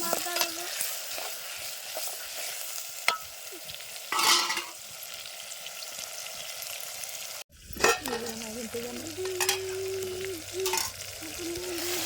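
Onion, potato and green chilli fry together in a pan, a close sizzling hiss broken by stirring scrapes and clatters, with a louder burst of sizzle after a brief cut midway.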